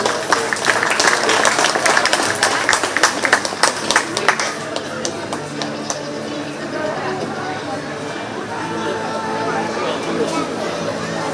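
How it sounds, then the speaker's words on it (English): Audience clapping for a youth exhibitor at a 4-H/FFA dairy goat show at the Shelby County Fair, steady dense applause over the first few seconds, then tapering into lighter scattered claps and crowd murmur in a large arena. "Let's give her a big round of applause."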